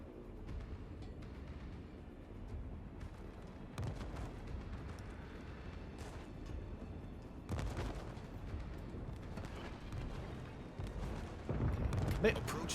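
Anti-aircraft flak bursting around carrier planes in a naval video game, steady rumbling with periodic heavier booms and crackles that build toward the end, under a constant engine drone.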